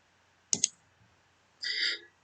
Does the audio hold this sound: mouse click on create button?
yes